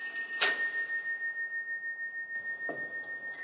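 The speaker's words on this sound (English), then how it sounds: "On the hour, the figure of death strikes on the bell" Bell of the Isaac Habrecht clock struck by the figure of death: one clear metallic strike with a long ringing tone that sustains, then a softer second tap near the end.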